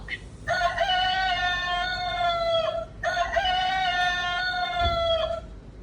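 A rooster crows twice in long, loud drawn-out calls close by, each followed by a brief pause, with faint background noise and no talk over it.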